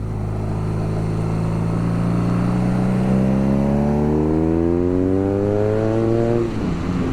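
A 2022 BMW R nineT boxer twin motorcycle engine revs up under acceleration, pitch climbing smoothly toward the top of the range before dropping off abruptly, loud and close with no talk.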